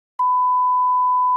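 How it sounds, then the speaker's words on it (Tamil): A single steady electronic censor beep at one pitch, dropped in during editing to cover a word in a playful truth-or-dare game, starting abruptly after a brief silence and holding loud and unbroken to the end. "நாம பீப் போட்டு"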